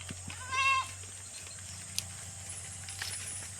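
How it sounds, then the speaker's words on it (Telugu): Goats on a farm bleat in a short harmonic call near the start, followed by low steady background hum and faint rustling. "ఇగోండి మా మేకలు"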